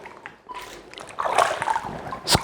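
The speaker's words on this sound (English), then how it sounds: "I'm now rinsing the sweat pads." Water splashes and trickles while skateboard helmet sweat pads are rinsed by hand, a soft uneven sloshing that builds toward the end, close by with no talking.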